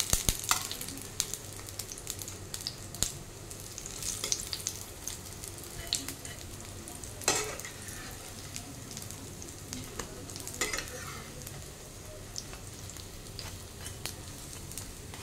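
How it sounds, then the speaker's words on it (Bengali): Raw mango chops frying in hot oil, a steady close sizzle with occasional sharper crackles and spatters throughout, no voices. "দেখুন চপটা দুদিকেই ভালোভাবে ভাজা হয়ে গেছে"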